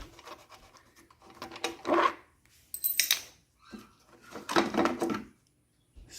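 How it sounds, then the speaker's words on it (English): A screw comes out of the air filter cover on a Bolens lawn mower, heard as close, quiet scratchy grinding twists in several separate bursts with short pauses between them. "in order to access the filter I need to unscrew this screw here"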